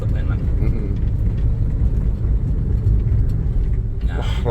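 A Suzuki Ertiga with a manual gearbox, fitted with a Blackcore upgrade, pulls steadily in third gear, its engine a loud continuous rumble heard from inside the cabin, with people talking over it.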